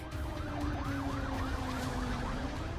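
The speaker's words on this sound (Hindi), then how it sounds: "शहर में सायरन का शोर गूंज रहा है।" Air raid sirens sounding across the Saudi city of Najran during a Houthi missile attack, a rapid wavering wail repeating over a dense rumble of city noise, heard from some distance.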